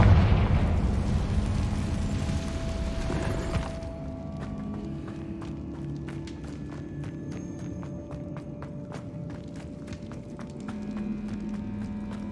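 A Confringo fire-spell blast in the video game Hogwarts Legacy, with a heavy rumbling explosion that fades after a few seconds, followed by quieter ambience with scattered clicks and light footsteps.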